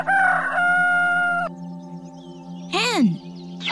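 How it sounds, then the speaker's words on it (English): A rooster crows once, loud and close, in a short rising-then-falling call that comes after a steady tonal sound in an otherwise quiet setting. "Rooster."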